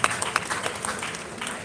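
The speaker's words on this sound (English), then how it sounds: "Please, let's give them a round of applause as they come." An event audience claps for a Keystone Bank representative, a modest, scattered round of applause with a few distinct sharp claps standing out near the start.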